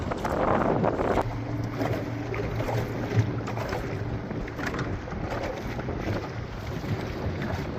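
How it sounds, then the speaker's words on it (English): A steady ski boat drone passing on a windy Colorado lake, blended with wind buffeting the microphone, continuous and moderately loud, no voices. "Here comes the ski boat right now, getting after it."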